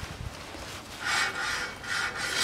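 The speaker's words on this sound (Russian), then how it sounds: "Один оборот делаю, он закрутился, но шоркой." On a 2011 Nissan Juke 1.6, a brake disc turned by hand scrapes against the caliper during handbrake adjustment, giving close, dry rasping swells that rise and fade in two waves, with no voices.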